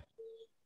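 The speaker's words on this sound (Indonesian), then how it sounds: "Sebentar Mas Dewa, ada itu telepon saya sebentar." A single short electronic telephone tone beeps faintly for about a quarter second against a quiet background, with no talk.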